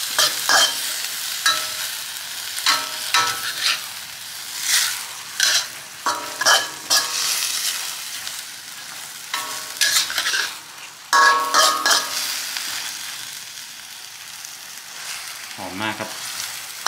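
Kale leaves and canned fish stir-fried in a wok, with repeated scraping and clattering spatula strokes over a steady sizzle, loud and close, in irregular bursts throughout.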